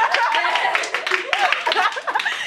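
Classroom students clap in a loose round of applause with scattered laughter and chatter mixed in, close and fairly loud throughout.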